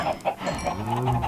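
Chickens in Minecraft cluck in a brief, steady series of short, evenly spaced calls, loud and close, with no voices.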